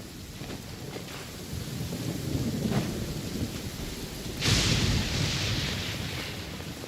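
Thunder rumbles from Genshin Impact over steady rain, a low rolling growl building through the middle before a sharp, loud crack lands near the end and trails off into the rainfall, with no voices.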